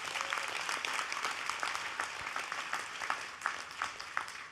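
Applause from a convention audience, a dense and continuous round of clapping at moderate distance, with individual claps popping out above the wash and no talk over it.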